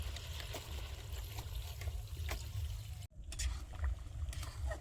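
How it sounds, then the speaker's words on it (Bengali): Water poured into a pan of Bengali meat curry (mangsho jhol) after the oil has separated, a steady close trickle and gush of liquid with a brief dropout near the end. "এখন জল দিয়ে দেবো"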